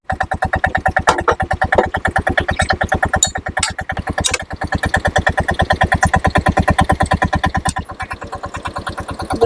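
A BCS 742 power tiller's engine runs steadily up close, a loud, fast, evenly pulsing mechanical chug with only slight dips in rhythm throughout.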